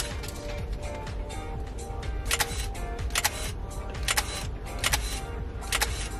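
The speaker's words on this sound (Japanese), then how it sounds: "シャッターがちゃんと切れ出す" A Canon EOS Kiss film SLR camera fires its shutter repeatedly, several sharp mechanical clicks with whirring in between, heard close in a quiet room with no talking.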